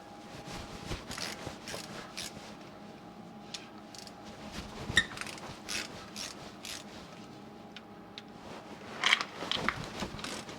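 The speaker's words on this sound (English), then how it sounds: "I've got I think it's a 1/2 inch socket here on these bolts. They're all coming apart pretty good." Socket wrench on a half-inch socket working bolts loose on a 2007 Jeep Liberty drive shaft, giving intermittent metallic clicks and rasping ratchet strokes at close range, with louder clusters near the start, middle and end.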